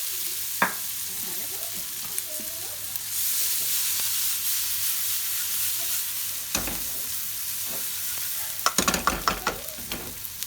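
Grated coconut sautéing in a pan, with steady soft sizzling and frying hiss throughout, stirring scrapes, and a cluster of sharper clatters near the end.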